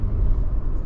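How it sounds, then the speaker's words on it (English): A 2022 Subaru Forester Wilderness with a CVT accelerating, giving a steady, loud low-pitched engine drone and road rumble that holds evenly through a brief moment with no talking. "that's a bit buzzy, as CVTs normally are"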